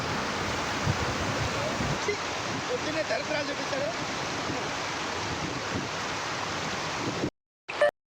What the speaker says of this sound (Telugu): కొత్తపల్లి జలపాతానికి వచ్చి ఎంజాయ్ చేయండి.